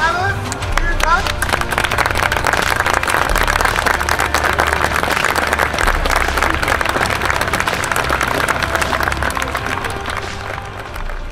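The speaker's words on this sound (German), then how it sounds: "Applaus an alle." An outdoor crowd applauds steadily at a JR public art event in the Ehrenhof, Düsseldorf, in April 2022. Dense, even clapping holds for the whole stretch, with faint murmuring underneath.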